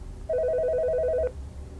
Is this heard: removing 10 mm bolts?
no